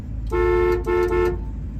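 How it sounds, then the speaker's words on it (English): A 1974 Pontiac Trans Am's horn honks twice in quick succession, loud and close, the second blast slightly longer, then quiet engine rumble. "Go ahead and honk the horn for us."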